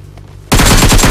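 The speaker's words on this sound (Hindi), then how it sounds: "मुझे गोलियों की आवाज से लगा था कि यहाँ पे कुछ रियल बंदे हैं" Automatic gunfire in the video game PUBG bursts in abruptly after a quiet stretch: a loud, close, rapid string of shots that runs without pause to the end.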